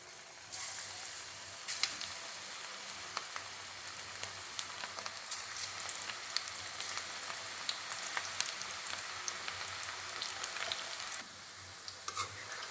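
Cabbage pakoda pieces fry in hot oil with a steady, dense crackling sizzle like rain on a surface. It runs on continuously at moderate level, close up and without talk.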